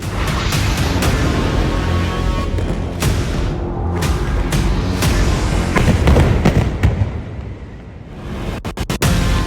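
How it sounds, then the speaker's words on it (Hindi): A string of heavy explosions from an Israeli airstrike on the Houthis in news footage, with booming blasts and rumbling aftershocks rolling one after another, loud and close, followed by several sharp bangs at the end. "2000 धमाके"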